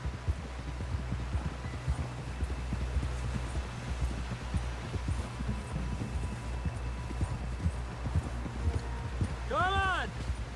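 Horse hooves clip-clop in a fast, steady galloping rhythm throughout, with a brief whinny near the end, in the video game Red Dead Redemption 2.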